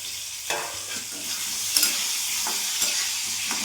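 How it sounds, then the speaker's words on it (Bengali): Cut pieces of elephant foot yam fry in hot oil with a steady close sizzle, broken by several sharp spatula clicks and scrapes as they are stirred. "এই তেলের মধ্যে আমি এই ওলগুলো ভেজে নেব।"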